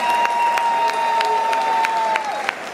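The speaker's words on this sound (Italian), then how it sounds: "E quindi per questa sera un grande applauso a Danilo, che è stato con noi 17 anni," Audience applause at a metal concert at the Ambria Music Festival, a steady dense clapping wash with sharp individual claps and a sustained tone running underneath, continuous throughout.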